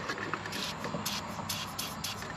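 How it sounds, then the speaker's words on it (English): PB Blaster penetrating oil sprayed from an aerosol can onto a steering shaft joint of a 2010 Ford Crown Victoria, a series of short hissing bursts in an uneven rhythm, close and fairly loud. "I'm going to actually give that a bit of a spritz with the old PB blaster."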